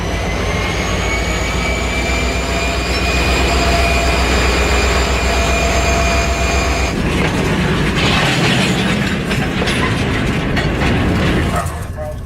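A loud, close freight locomotive rumbles with high whining tones, then the sound turns rougher and noisier as it comes off the brakes, throttles up and the train starts moving.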